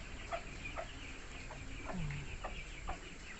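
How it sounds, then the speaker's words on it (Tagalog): Pigeons in a breeder loft, faint soft coos and clucking calls repeating every half second or so over a noisy outdoor background, with no voices. "Yung mga kalapati."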